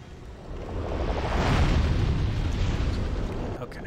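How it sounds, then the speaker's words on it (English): A Demon's Souls explosion builds into a broad, sustained roaring boom that swells for a few seconds before easing off, loud and rumbling with no speech over it. "you'll want to run away, because it'll explode"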